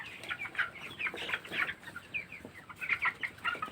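Young broiler chickens on a poultry farm, about seventeen days old, cluck and chirp in a busy overlapping chorus, moderately soft and close, with no human voices.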